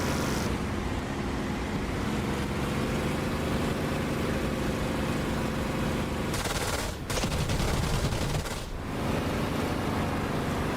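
Sustained rapid gunfire in a DCS flight simulator, a dense continuous rattle mixed with loud engine roar, broken by two brief dips before resuming.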